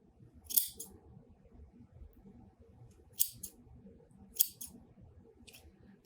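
Scissors trim pom-pom yarn in three crisp, separate snips with quiet pauses between them, close and fairly soft.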